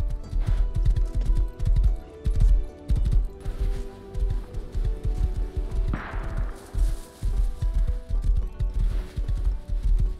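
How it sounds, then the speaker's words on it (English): A horse gallops in the video game Rust with a fast, rhythmic clip-clop of hooves, loud and close, that runs the whole time, with a brief crash-like burst partway through and no talking. "You got a horsey."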